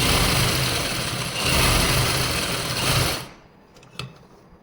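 A sewing machine stitches a salwar in a loud, steady mechanical whir close by for about three seconds, then stops abruptly, leaving quiet room tone with a couple of faint clicks.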